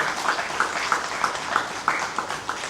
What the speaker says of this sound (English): A huge round of applause for Vikrant.